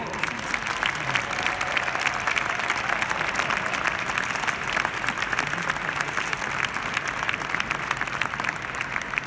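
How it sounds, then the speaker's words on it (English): A large crowd at the AIPAC 2019 conference applauds enthusiastically, a sustained, even wash of clapping from many hands that continues without pause throughout. "Now that deserves enormous applause."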